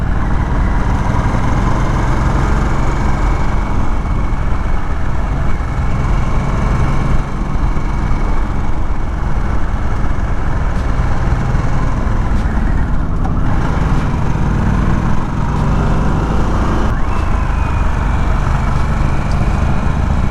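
A Harley-Davidson Sportster S motorcycle runs steadily through the curves of the Tail of the Dragon, its loud engine drone and road rumble constant and close for the whole stretch, with no voices over it.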